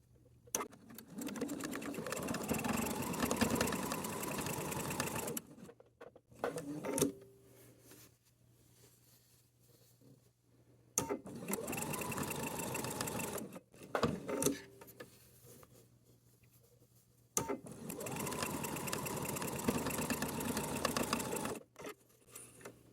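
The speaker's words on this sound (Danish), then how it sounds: "Så nu syr jeg dernede fra, hen, nålen ned, vender, nålen ned, vender og stopper." A sewing machine stitches a fabric pouch for sanitary pads, running in three long steady bursts with quiet pauses between them as the work is turned.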